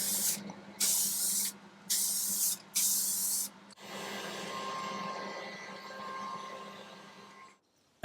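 Spray gun hissing out metallic mahogany lacquer onto wood in several short bursts, then one longer continuous spray, loud and close, ending in quiet.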